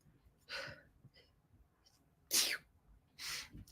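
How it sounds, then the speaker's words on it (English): A single sneeze, loud and close, with a sharp burst and then a breathy exhale after a short pause. "I have to sneeze."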